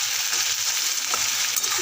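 White potatoes fry in a pan in a home kitchen, giving a steady, close sizzle with faint stirring clatter and no talking.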